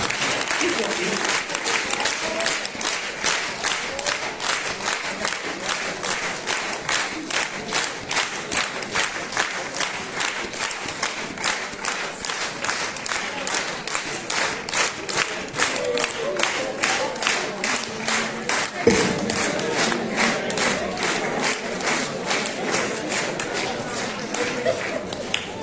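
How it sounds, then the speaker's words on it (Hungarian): Sustained, dense applause from a concert audience honouring a Hungarian singer's 35-year stage career, with rhythmic clapping that runs steadily throughout, moderately loud and without break. "Köszönjük szépen a tapsokat"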